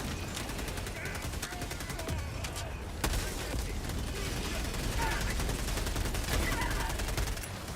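A sentry gun fires in the video game Helldivers 2, a rapid rattling stream of shots with occasional louder cracks, steady and sustained under other battle noise.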